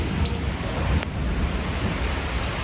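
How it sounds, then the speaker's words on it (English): Heavy rain pours down steadily outside, a dense continuous hiss close by with a faint low rumble beneath and no voices. "it is really raining, as you can see outside"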